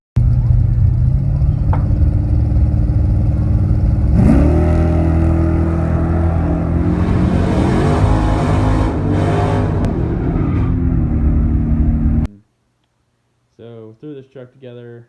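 A four-wheel-drive race truck engine roars loud and close for about twelve seconds, its pitch climbing and shifting as it revs hard while racing, then cuts off abruptly, leaving a brief voice at the end.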